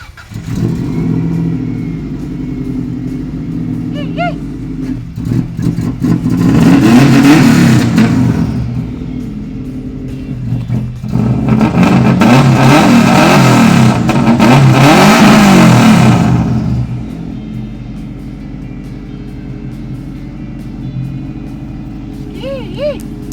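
A right-hand-drive Subaru STi engine idles with a low rumble, then revs hard twice in long, loud swells before settling back to idle.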